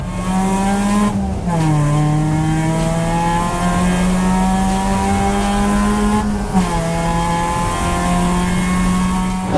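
A race car lapping Clark Speedway during an endurance race, its engine droning loud and steady from inside the car, with brief gear shifts that drop the pitch before it climbs again.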